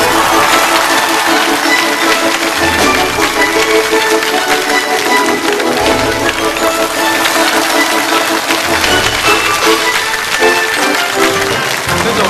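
Large studio audience applauding steadily to welcome a guest speaker, the deputy chief designer of China's domestic aircraft carrier, onto a lecture show stage; dense sustained clapping at full volume throughout, with a faint murmur of crowd underneath.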